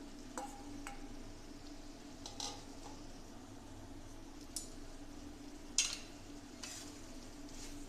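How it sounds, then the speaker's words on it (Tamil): Chicken pieces tipped into a thick, reduced Tamil chicken kuzhambu gravy and stirred, giving soft scraping and clinks of a spoon against the pot at irregular moments over a steady low simmering bubble, with no talk. "இப்போ வந்து இதில் கறி கொட்டிடலாம்"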